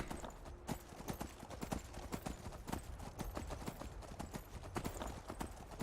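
Horse hooves clip-clopping in modded Skyrim Special Edition, a steady rapid rhythm of sharp hoof strikes over a continuous ambient bed, close and fairly even, with no talk.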